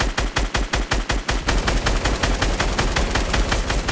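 Rapid automatic gunfire in Fortnite, a loud, steady stream of closely spaced shots, pulsing at first and then blurring into a dense continuous burst, with no talking over it.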